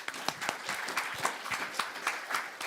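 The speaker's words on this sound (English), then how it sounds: "Let's have a round of applause for them." An audience at a public science talk on T. rex and Triceratops applauds the evening's helpers, with steady, fairly close clapping from many hands and no speech over it.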